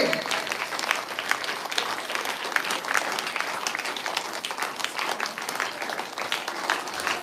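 A crowd at a kirtan in a Vitthal Rukmini temple clapping loudly and continuously, a dense steady roar of hands lasting throughout, with voices faintly underneath.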